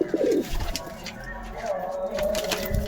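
A pigeon coos in low, soft bursts close by, with faint background noise around the calls.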